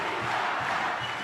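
A stadium crowd at a Philippines vs Thailand football match roars continuously during a corner kick, a dense, loud wash of cheering voices with no pause.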